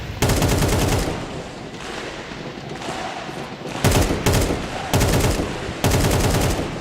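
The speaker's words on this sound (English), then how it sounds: "Donk handed the AK" AK rifle fire in a Counter-Strike match, loud rapid automatic bursts up close, with sharp separate volleys near the end and steady background din between them, no voices.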